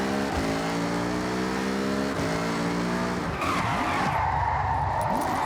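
A car in the video game Forza Horizon drives loudly with a constant engine drone. Its revs step up through several gear pulls, then the tires screech in a long skid as it slides and brakes.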